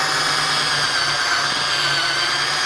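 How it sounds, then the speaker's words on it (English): A continuous high-pitched power drill whine drilling out a rivet's head on a car door, steady and close, with a constant grinding buzz and no breaks. "we're going to drill out the mushroom cap"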